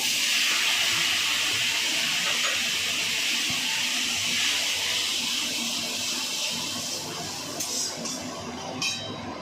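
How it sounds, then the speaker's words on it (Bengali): Water pours steadily into a pan of stirred spices and asafoetida, a bright continuous rush that tapers off near the end with a couple of light clinks. "এর মধ্যে একটু জল দেবো আমরা।"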